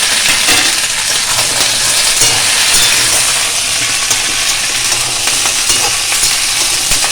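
Mixed vegetables with four green chillies sizzle loudly in a hot pan, a dense continuous frying hiss with occasional stirring scrapes, up close and with no voices.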